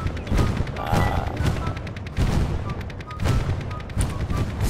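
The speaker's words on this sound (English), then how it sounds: "Alright, we're definitely getting artillery." An artillery barrage in Operation Harsh Doorstop brings repeated heavy booms every second or so, layered with rattling gunfire. The battle noise is loud and continuous, and voices can be heard in the mix.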